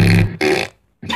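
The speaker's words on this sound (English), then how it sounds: "I just farted." A fart sound effect in a YouTube Poop edit, two loud, buzzy blasts of about a quarter second each, separated by a short gap and followed by a third after a brief silence, close and alone.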